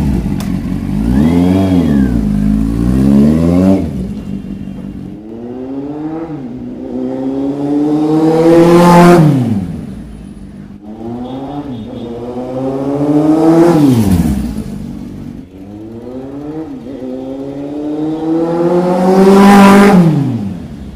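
A Kawasaki Z800 motorcycle engine revs up hard four times during a short test ride, each rising wail climbing then dropping back, loud and close with no talk.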